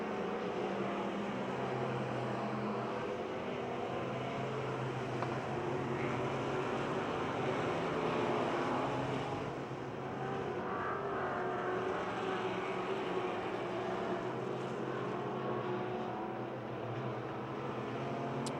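Race cars circling the track at Pennsylvania Motor Speedway in Pittsburgh during a 2006 race, a continuous dense roar of engines from a distance that swells slightly and then eases.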